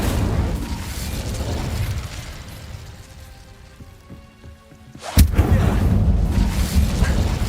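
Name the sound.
Glacius and Incendio spells cast in Hogwarts Legacy video game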